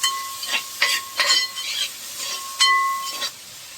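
Curry leaves go into hot oil for a tilapia fish gravy and crackle loudly up close. Bursts of hissing sizzle come with stirring, over a faint steady tone.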